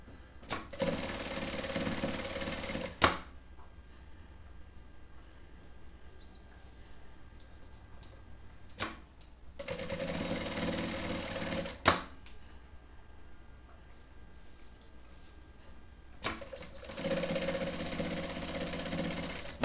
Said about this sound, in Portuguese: Eu gosto de fazer desse lado, que aí eu pego a costura bem aqui na beiradinha da barra.